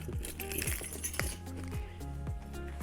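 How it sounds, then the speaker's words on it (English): Metal keys jangle and clink as they are handled and dropped into a Saint Laurent Sac de Jour handbag, with a rapid series of close, bright chinks over a low background hum. "I also have my keys."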